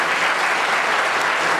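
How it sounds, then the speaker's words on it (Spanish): Steady, dense applause from a crowd, continuous clapping at even loudness throughout the short stretch. "Que se oiga el aplauso, maestro."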